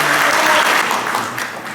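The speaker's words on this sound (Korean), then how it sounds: "여러분 큰 박수 부탁드리겠습니다" Steady applause from a crowd at a Korean book launch event, clapping continuously throughout at a fairly loud, even level.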